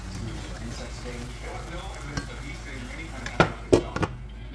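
A pan of sautéed bitter melon with shrimp and egg sizzles steadily as it cooks, with a few sharp utensil clanks and scrapes from stirring near the end.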